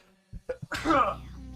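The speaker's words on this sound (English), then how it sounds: "I'm gonna sneeze." A few short breathy intakes build up to one loud, close sneeze, followed by a faint low hum.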